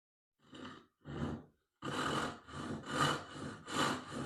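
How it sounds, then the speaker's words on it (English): A handsaw's rip blade ripping through wood, as for a dovetail or tenon cut: two short rasping strokes, then a steady run of four longer, louder back-and-forth strokes, close up and alone. "If I were to rip this, as in a dovetail or a tenon, I would use the rip blade."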